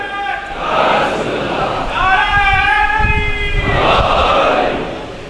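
A crowd of mourners at a Shia majlis on 22 Muharram chants religious slogans in loud, overlapping waves of raised voices that swell and fall across the gathering.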